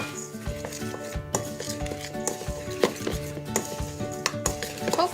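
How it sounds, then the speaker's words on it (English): A spoon scrapes and clinks against a bowl as melted coconut oil is stirred into a thick coconut bar mixture, close and irregular, with no voices. "My coconut oil is all heated up there, and I'm just going to mix that in and stir it all up"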